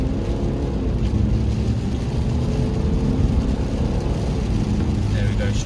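A 2017 Mercedes C300h hybrid automatic picking up speed on the road, with a steady engine drone and road rumble heard from inside the cabin, sustained throughout.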